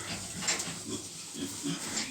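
Heavy piglets of nearly 40 kilograms grunt in short, low bursts while under stress on a farm, close by and moderately loud against a steady background hiss.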